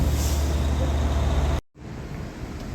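A loud, close truck engine at a stop sign rumbles with heavy low-end roar, cutting off abruptly, then steady traffic noise continues at a lower level, in Gatlinburg, Tennessee.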